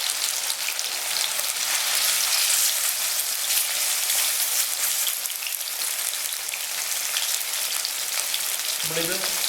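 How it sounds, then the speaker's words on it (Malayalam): Chicken pieces shallow-fry in hot oil for a chicken curry, filling the air with a loud, dense, continuous crackling sizzle heard up close and unbroken from start to finish. "ഇപ്പോൾ നന്നായിട്ട് എണ്ണ ചൂടായിട്ടുണ്ട്. നമുക്കിനിയിപ്പം ഈ ചിക്കനെ അതിലേക്ക് ഇടാം."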